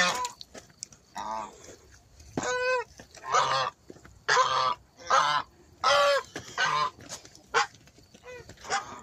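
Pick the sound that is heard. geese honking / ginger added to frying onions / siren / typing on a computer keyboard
geese honking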